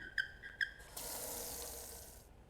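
Water runs from a tap in a video game, opening with two short chimes, then a steady hiss of flowing water for over a second before it cuts off, heard alone.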